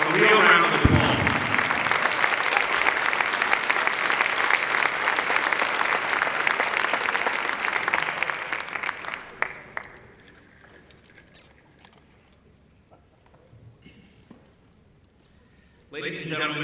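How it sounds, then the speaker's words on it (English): Audience applause at the WIZO 2015 gala dinner, loud and dense for about nine seconds in a large hall, then fading out to near quiet before a speaking voice returns at the end. "I think they deserve a real round of applause"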